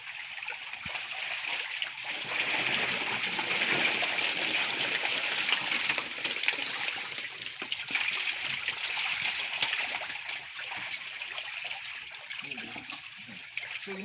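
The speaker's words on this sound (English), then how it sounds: "Put my hands together because the fishes are pouring." Water and catfish poured into a container during fish sorting, a steady hissing, splashing gush that holds for many seconds with faint background sounds and no clear voices.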